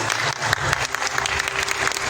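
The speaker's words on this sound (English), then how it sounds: "I think this deserves a round of applause, please." An audience applauds after a document signing at a Kadin and Thales innovation day event, a steady wash of many hands clapping at close range throughout.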